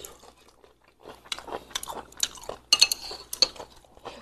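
Three people chewing grilled pork shoulder (meihua cut) coated in Northeastern soybean paste and chili powder, with close, crunchy bites and soft clinks of cutlery and dishes, in short bursts after a quiet start.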